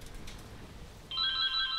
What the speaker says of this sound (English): Phone going off here.